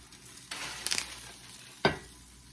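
Steak sizzling in a hot pan, a steady quiet fry broken by a few sharp scrapes and clatters as the meat is lifted, with no talking.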